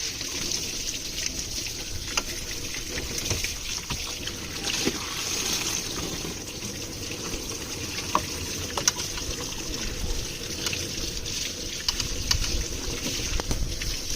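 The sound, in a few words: water flushing out of Swift car radiator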